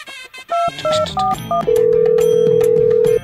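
A series of short electronic keypad tones is followed by a long, continuous ringing tone, loud and close, with no talking.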